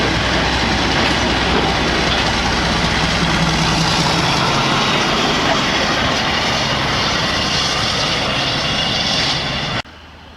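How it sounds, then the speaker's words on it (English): A heritage train reverses into a Severn Valley Railway station, a broad sustained rumble and rolling noise close by that stays loud before cutting off abruptly near the end. "We've got a train reversing"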